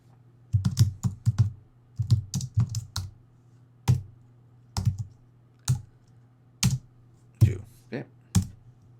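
Typing on a computer keyboard during music production, with a burst of quick clustered keystrokes followed by single, well-spaced key presses, each click close and crisp with no talking.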